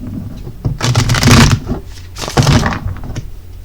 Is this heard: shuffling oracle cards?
yes